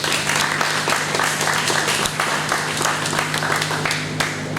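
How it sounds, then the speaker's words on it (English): A crowd at a World Refugee Day celebration in Houston applauds refugee organizations, dense even clapping at moderate level throughout with a steady hum beneath. "So if you can give those organizations a round of applause,"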